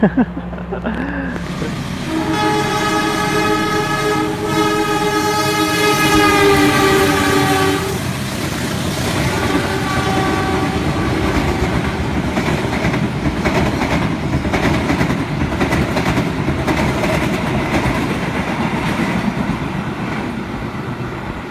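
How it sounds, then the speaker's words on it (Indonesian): A train horn sounds for several seconds, then the steady rumble and clatter of the Matarmaja economy passenger train rolling along the rails after leaving Solo Jebres station continues, with faint voices beneath. "Kereta Matarmaja udah diberangkatkan dari stasiun Solo Jebres."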